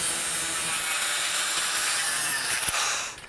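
Vinyl siding J trim is cut with a power saw, giving a loud, steady, close-up whine of blade through plastic for about three seconds before it stops.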